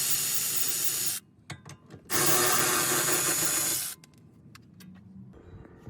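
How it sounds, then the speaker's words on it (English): A ratchet loosens the 12mm rear brake caliper bolts on an Acura TSX or Honda Civic in two long, loud bursts of rapid clicking and rasping, separated by quieter pauses with a few small metallic taps. "You just got 2 bolts. They're both 12s. 1, 2, take those both out."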